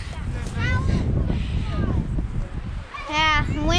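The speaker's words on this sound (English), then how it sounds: "wind's picking up really good" Wind gusting across a boulder-topped mountain summit on a hiking trail, a steady low rumble buffeting the microphone throughout, with people, including children, talking over it.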